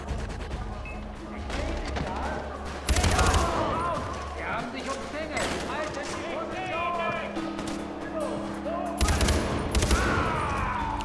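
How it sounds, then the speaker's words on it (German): Gunfire from the shooter Far Cry 4 crackles in bursts and volleys over a steady game backdrop, with heavier shots near the start and end while someone talks throughout. "Kopfschuss, perfekt ausgeführt."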